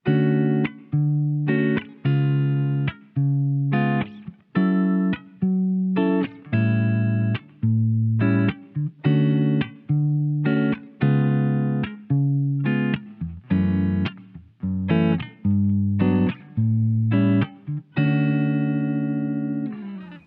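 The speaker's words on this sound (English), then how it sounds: "I'm gonna use just my fingers to arpeggiate the chords and give the progression a different feel." Guitar chords picked note by note in a steady, flowing pattern, each chord ringing briefly before the next; clear and close with no voices.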